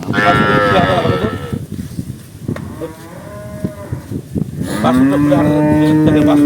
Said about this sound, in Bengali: টাইগার একটা বাছুর বকনা বাছুর দেখছেন